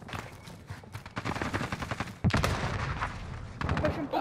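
In a shooting video game, rapid bursts of automatic gunfire ring out loud and close, with one sharp crack partway through and near-continuous shots after it. Voices talk faintly underneath.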